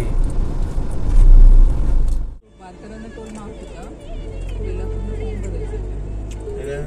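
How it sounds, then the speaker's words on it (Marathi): Heavy road traffic at the Khalapur toll plaza on a Saturday: a loud, dense rumble of engines for a couple of seconds, then a steadier low idling hum of queued vehicles with faint voices in the background. "ट्रॅफिक बघा किती आहे."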